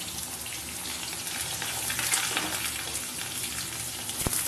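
Banana and potato pieces frying in oil in a home kitchen pan, a continuous soft sizzle with faint bubbling and the occasional stir, steady and close without any talk.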